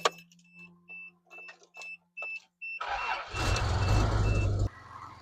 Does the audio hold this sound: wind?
no